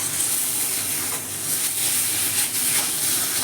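Hilsa fish tail bharta made with ground jackfruit seeds is stirred in a hot frying pan. A steady, loud sizzle and hiss runs throughout, with faint scraping now and then.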